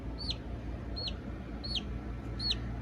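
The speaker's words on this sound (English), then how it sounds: "This little chick right here is a sweet little baby that came from Matilda, and she's crying for her mates" A baby chick cheeps for its mates, four loud, high, evenly spaced descending peeps sounding close over a low indoor hum.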